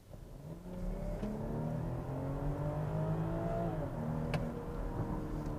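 A 2021 BMW X5 inline six-cylinder engine accelerating in sport mode on a back road, rising engine tones climbing steadily through the revs and heard from inside the car at moderate volume, with a brief click partway through.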